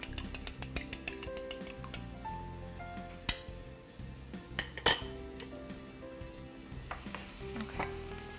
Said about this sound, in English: I'm going to take a fork here, kind of stir it up.